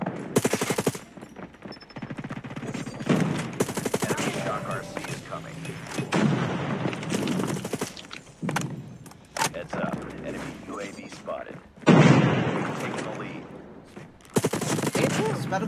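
Bursts of automatic weapon fire from Call of Duty Mobile come in repeated loud, rapid volleys with short pauses, while someone talks over much of the action.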